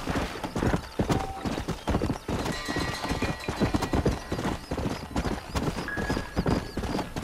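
Horse hooves clip-clopping in the Western video game Red Dead Redemption, a steady rhythmic beat of hoofbeats with brief whinnies, close and loud over game ambience and music.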